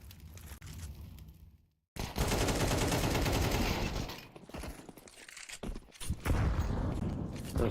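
Pistol and rifle fire in a competitive online shooter match, including an AK, erupting in loud, dense, rapid bursts after a brief silent gap, with volleys overlapping and trailing off unevenly.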